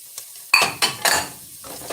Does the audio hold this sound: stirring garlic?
yes